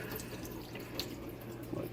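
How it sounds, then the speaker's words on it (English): Cold tap water runs steadily over a brined whole chicken being rinsed in a sink, a close continuous splashing with small drips and spatters. "So just rinse it with some cold water real quick,"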